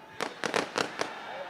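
Firecrackers bursting at a festival: about five sharp, crackling bangs in quick irregular succession, moderately loud over a quiet background.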